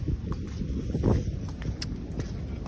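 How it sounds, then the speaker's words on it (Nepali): Wind blowing outdoors beside a river, a steady rushing buffet against the microphone with low gusty rumble and a few faint knocks. "यो हावा"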